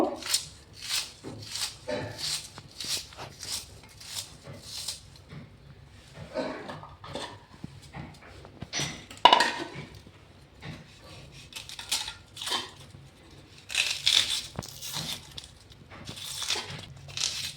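An onion is finely chopped on a curved boti blade, a quiet run of quick, uneven crisp cuts and taps that bunch into bursts and then pause briefly.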